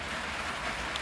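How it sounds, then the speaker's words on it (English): Soft, steady rain hissing evenly in the background, faint and continuous with no other sounds or voices. "I think this rain is going to put me to sleep."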